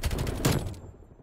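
Bullfrog submachine gun in Call of Duty Cold War firing a rapid, loud, close burst of shots that cuts off abruptly, leaving a short ringing tail.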